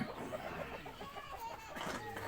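A chicken clucks in a quick, repeated pattern, fairly faint against a noisy outdoor background.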